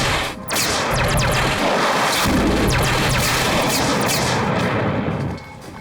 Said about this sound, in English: Armed, firing countermeasures.